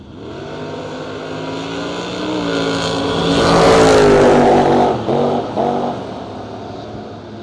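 Footbrake drag race cars roar off the line, engines building to a loud peak and then revving in short bursts as they launch down the track, with no talk.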